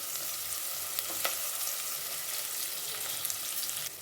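Onions frying in hot oil for pulao, a steady close sizzle with occasional faint stirring clicks and crackles, no voices.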